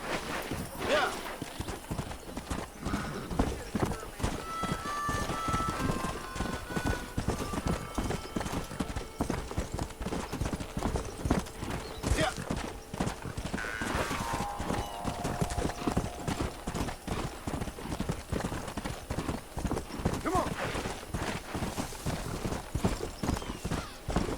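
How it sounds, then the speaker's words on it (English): Horse hooves clip-clop in a steady walking rhythm while riding in the Red Dead Redemption video game, the clopping continuous and fairly close, with someone talking over it throughout. "Get on your horse, John."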